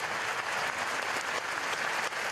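A large crowd in Plaça de Catalunya, Barcelona, breaks into sustained applause after a minute of silence for terror attack victims, dense clapping spread wide and loud without pause.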